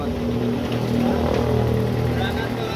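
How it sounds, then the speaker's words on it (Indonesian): A Toyota Kijang engine fitted to an odong-odong tourist train idles steadily and loudly with a low, even rumble throughout, and a voice talks over it. "ini udah di starter untuk mesinnya ya"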